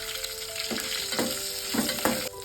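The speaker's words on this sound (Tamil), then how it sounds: "இதை கொஞ்ச நேரம் வறுத்துக்கலாம். மிளகாலாம் நல்லா வறுபட்டுருச்சு" Dried and green chilies crackle and sizzle steadily in a pan for mint chutney. The loud, close hiss is broken by several soft stirring scrapes, and no one speaks.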